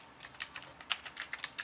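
Rapid keystrokes on a computer keyboard while setting up input bindings in Unreal Engine 5.4, about a dozen crisp clicks in an uneven burst, close and fairly quiet, with no voices.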